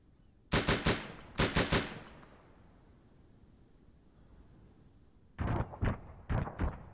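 An Mk19 grenade launcher in Arma 3 fires in short bursts of three or four heavy thumping rounds, a pause between volleys, loud over a faint background rumble.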